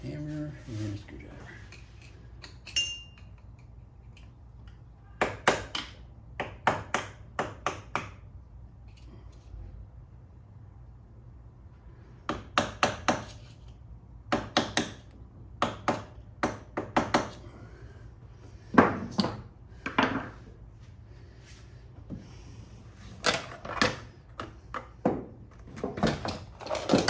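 Hammer driving a screwdriver against a stuck bolt on a Kawasaki KFX 400 ATV, with sharp metallic taps in irregular clusters, near and loud between quiet stretches, with someone speaking at times.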